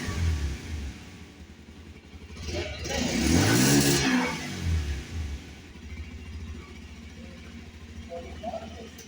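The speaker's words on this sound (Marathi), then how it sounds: "तुम्हाला गाडीचा साऊंड ऐकून येतो कसा आहे तो." A Bajaj Pulsar 125 motorcycle, a 2026 model, runs with a low steady engine rumble. The engine swells briefly into a louder rev partway through, then settles back to an even idle.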